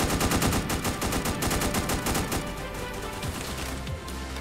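Rapid automatic gunfire in a Roblox cops-and-robbers game as players shoot at police: dense loud bursts of shots that thin out and soften toward the end, no talk.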